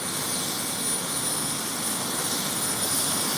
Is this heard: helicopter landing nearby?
yes